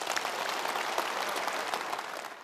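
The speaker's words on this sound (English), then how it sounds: "The applause was noticeably perfunctory." Perfunctory applause from a conference audience after a political speech, a short, even wash of clapping from a crowd, moderately distant and fading out at the end.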